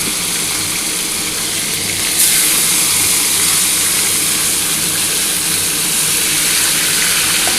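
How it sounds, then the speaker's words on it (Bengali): Rohu fish frying in oil in a pan, a steady loud hiss and sizzle running throughout without pause, close up and alone. "আমি প্রথমে মাছটা ভেজে নিচ্ছি"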